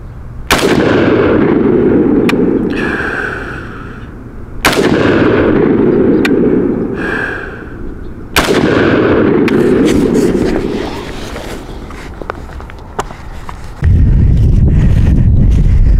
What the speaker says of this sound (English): So we'll try again, fire for effect, and see how it does.